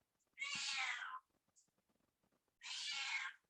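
A pet cat meows twice, two drawn-out calls separated by a quiet pause, fairly faint and unaccompanied by talk.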